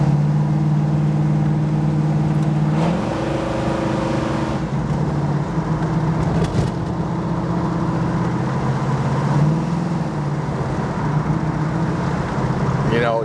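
A 1973 Plymouth 'Cuda cornering hard, its engine droning steadily with pitch rising and falling through the turns, with someone talking over it.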